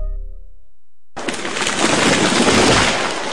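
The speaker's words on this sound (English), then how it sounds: "That was the sound of a tree falling." Sound effect of a tree falling: after a brief low rumble and a second of silence, a loud crashing roar of breaking wood and branches bursts in and sustains to the end.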